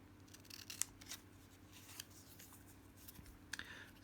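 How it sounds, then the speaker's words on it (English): Scissors snip through paper while trimming an oversized piece for a paper-craft booklet project, giving a few quiet, close, crisp cuts spaced out over a faint background hum. "I'm just going to trim a little bit of this off because it's a touch too big."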